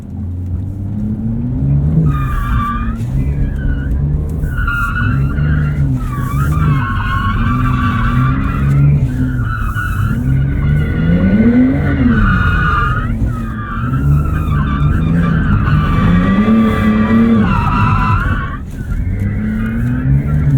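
A 2023 Porsche 911 Turbo S on a Porsche Experience Center track, tires squealing and skidding in repeated loud bursts as ABS locks the wheels, over a constant engine drone that rises and falls through corners.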